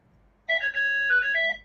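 A phone ringtone sounds once, a short bright melodic chime that starts suddenly and holds for about a second in an otherwise quiet room.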